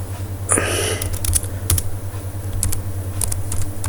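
Irregular clicks and taps of typing on a computer keyboard, at a steady working pace in a quiet room with light background hum and no talking.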